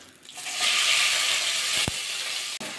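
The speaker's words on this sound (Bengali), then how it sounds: "পেঁয়াজটা হালকা ভাজা করে নেবো।" Chopped onions go into hot oil already holding fried cumin for egg rice, giving a bright hiss and sizzle that swells quickly and continues steadily, broken by a couple of brief clicks near the end.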